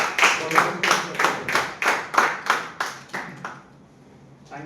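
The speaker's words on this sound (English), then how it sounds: "So let us with a big round of applause." Audience members at a Toastmasters club meeting clap in a slow, rhythmic round of about a dozen distinct claps at a steady beat, close and fairly loud, fading out toward the end.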